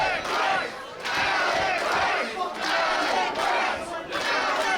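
A large crowd roars and cheers loudly in sustained waves, swelling and dipping several times in a big arena-like space.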